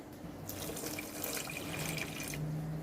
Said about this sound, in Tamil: 1/2 கப்பு தண்ணி ஊற்றிருக்கேன்.